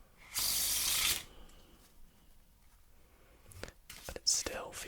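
A deck of playing cards riffles in a Pharaoh shuffle, a loud crisp burst lasting under a second, followed later by softer card handling and brief rustles beside a quiet whispering voice.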